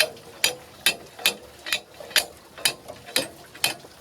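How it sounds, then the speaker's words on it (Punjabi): An old well's water-lifting wheel mechanism turns with regular, sharp metallic clanks about twice a second, each followed by a brief rattle, heard close up with no talk. "ਇਸ ਤਰ੍ਹਾਂ ਇਹ ਚੱਲਦਾ ਆ ਇਸ ਤਰ੍ਹਾਂ ਪਾਣੀ ਭਰ ਭਰ ਕੇ ਖੂਹ ਦੇ ਵਿੱਚ ਉੱਪਰ ਆ ਰਿਹਾ ਆ"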